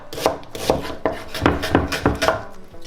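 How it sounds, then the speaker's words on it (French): Knife coarsely chopping an onion on a board, about eight sharp, evenly spaced cuts, close and clear with no talking. "on va couper l'oignon grossièrement parce qu'après ça va être mixé"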